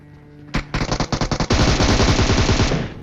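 Loud gunfire in the mobile battle-royale game PUBG Mobile: a few separate shots, then a rapid string of evenly spaced single reports, then a sustained automatic burst that runs on to the end.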